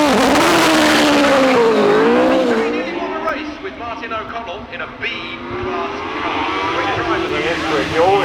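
Judd V8 Roman hillclimb race car, Tolman-derived, at full throttle on a British hillclimb course, a loud screaming engine rising and falling through gear changes, with a voice commentating over it.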